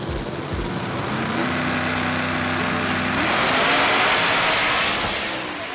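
A Promod Mustang drag race car runs down the strip, its engine a steady mid-range drone that swells louder toward the end, heard from a distance.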